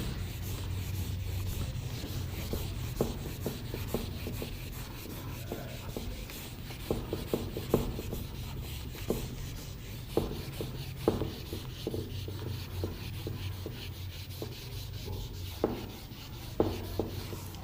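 A teacher writes a math question on a board with a faint, continuous scratching and rubbing of strokes and short taps at irregular intervals, over a low room hum with no talking.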